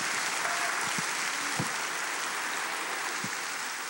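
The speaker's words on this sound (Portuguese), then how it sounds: "Será que você pode dar um aplauso ao Senhor?" A church congregation claps in a dense, steady roar of applause throughout, with faint voices and cheers mixed in during a pastor's sermon.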